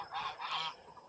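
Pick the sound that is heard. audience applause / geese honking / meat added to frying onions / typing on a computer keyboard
geese honking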